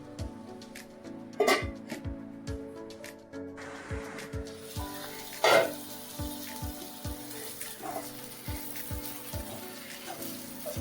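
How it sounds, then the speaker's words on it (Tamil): Banana flower stir-fry cooking with ground masala in a pan, soft frying sizzle with a few taps of a utensil against the pan and some running-water sounds, close and fairly quiet with no talking. "மசாலா வேகட்டு ஒரு 5 நிமிஷம் மூடி வச்சிருவோம்."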